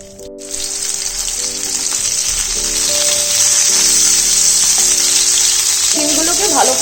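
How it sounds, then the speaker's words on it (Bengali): Flat beans sizzle and crackle steadily in hot oil in a pan, a loud continuous frying hiss that swells slightly as they are added one by one. "এবার এক এক করে শিমগুলো এর মধ্যে ফ্রাই করে নেব"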